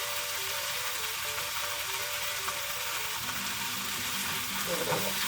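Food with pepper frying in a pan, a steady, fairly loud hiss and crackle of sizzling oil running evenly throughout, with faint low clatter underneath and no voice.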